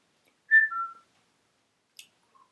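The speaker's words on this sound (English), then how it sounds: "I can't whistle when I'm laughing." A person whistles a short two-note phrase, clear and close in a quiet room, followed by a brief faint chirp and a tiny final whistle.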